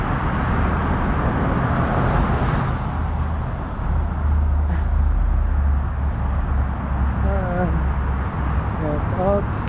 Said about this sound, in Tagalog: ang highway yung kabila yun. Daming mga bus.